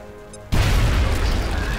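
Grenade going off in the game XCOM: Enemy Unknown, a sudden loud boom after a quiet moment, followed by a long rumbling, hissing tail of debris.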